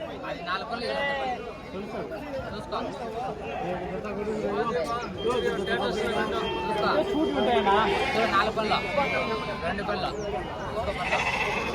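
Sheep and rams bleat repeatedly at a busy rural livestock market in Pileru, several animals calling near and far over constant crowd chatter and people talking throughout.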